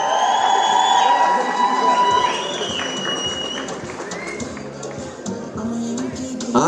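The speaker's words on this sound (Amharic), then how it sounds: "በደንብ አጨብጭቡላት።" Audience at an award event breaking into loud, dense applause and cheering, a close clatter of clapping that slowly eases while a voice carries over it.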